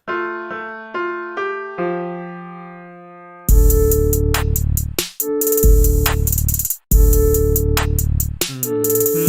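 Electronic music beat: a sparse synth melody plays first, then a loud full beat kicks in with short dropouts where parts cut away.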